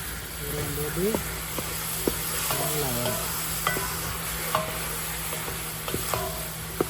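Tomatoes fry in a pan outdoors for mutton rolls. A steady close sizzle runs throughout with occasional scraping stirs, while people talk over it.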